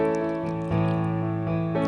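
Piano playing the opening guitar riff of an early song, a short run of clear, close notes with two firm accented chords, heard alone.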